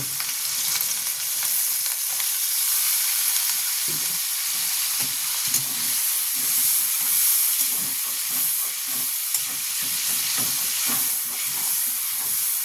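Chicken stew sizzles and fries steadily in a pan after water is poured in, a loud continuous hiss with bursts of crackling and soft stirring scrapes throughout, no voices.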